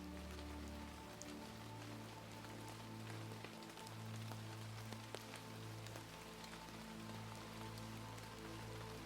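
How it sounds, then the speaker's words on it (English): Gentle rain falls steadily on surfaces in a forest setting, a soft continuous patter of drops with a low background hum, quiet and calm with no voices. "lulled to sleep by the gentle rhythm of the rain."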